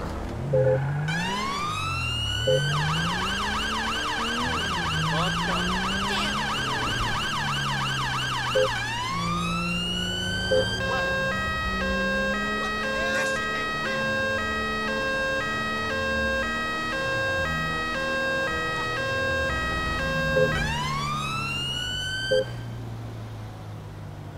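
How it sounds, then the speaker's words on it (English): A video game police car siren in GTA 5 wails continuously, switching between a rising-falling wail and a rapid yelp pattern, loud and close over a running engine. "we're gonna respond there with lights and sirens"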